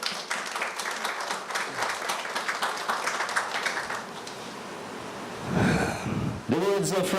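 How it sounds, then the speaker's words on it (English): A Rotary meeting audience gives a round of applause, dense clapping that holds steady for about five seconds, then thins out as murmurs and a brief voice come through near the end. "give yourself a round of applause"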